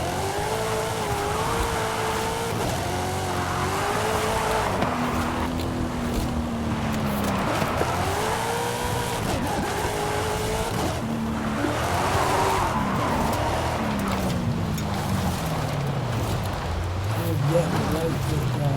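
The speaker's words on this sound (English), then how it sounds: "Drifting" A car drifts in a racing video game played on a Thrustmaster wheel, its engine note rising and falling under long, wavering tire squeals, while someone talks steadily over the sound throughout.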